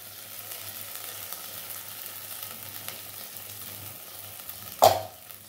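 Poppy seed, fennel and cashew paste frying gently over low heat, a soft steady sizzle with faint stirring, then one sharp clink of a utensil near the end.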